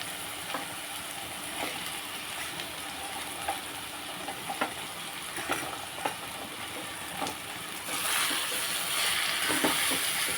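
Onions and drumstick pieces fry in a pan for a curry, giving a steady close sizzle with occasional stirring clicks. The sizzle swells louder near the end, with no talk.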